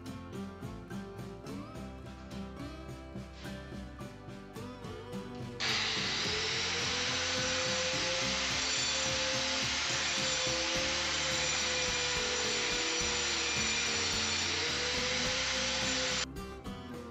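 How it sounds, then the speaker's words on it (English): A power grinder running wet, a loud steady high whine that starts abruptly, holds for about ten seconds and stops. "So I'm going to try wet grinding, just to see if that brings the dust down."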